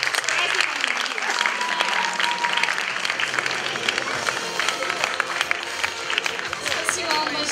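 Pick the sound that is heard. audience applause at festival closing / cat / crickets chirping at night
audience applause at festival closing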